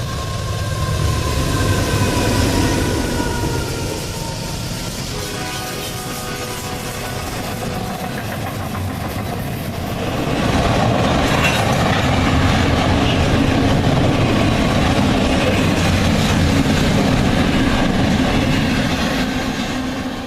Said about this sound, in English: Here we catch a southbound through Antioch around milepost 10